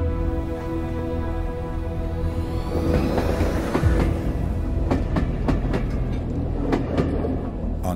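A Rovos Rail luxury train rolls steadily along the tracks, its continuous low rumble joined midway by a run of sharp metallic clicks and clacks from the wheels, with no voices heard.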